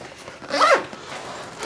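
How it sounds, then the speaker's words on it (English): A single quick zip of the front pocket zipper on a Tumi Alpha 3 expandable laptop bag, close and brief amid quiet room tone. "Up front we have a zipper."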